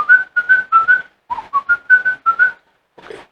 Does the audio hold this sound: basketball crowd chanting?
no